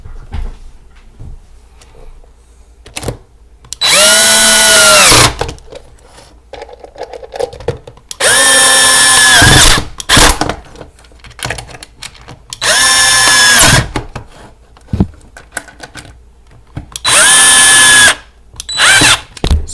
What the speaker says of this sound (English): it's just a case of putting the lid on and screwing that in place